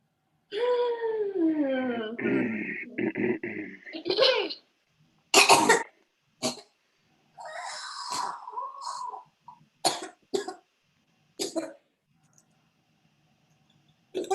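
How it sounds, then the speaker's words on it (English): A harsh close-up cough from an audience member at a live improv show, then a series of short throaty coughs and throat-clearing bursts separated by silent pauses, with a drawn-out vocal sound early on. "That felt like a bless you cough."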